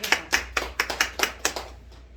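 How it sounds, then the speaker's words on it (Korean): A congregation at a Sunday church service applauds, with about ten fairly close hand claps in an uneven rhythm before the clapping fades out. "우리 아멘 집사님 박수 한번 쳐야 되겠네요."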